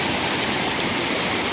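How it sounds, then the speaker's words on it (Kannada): A small waterfall pours into a stream along a walking path near a village, its loud, close, unbroken rush filling the whole stretch with no voices. "ಇಲ್ಲಿ ಒಂದು ನೋಡಿ ಫಾಲ್ಸ್"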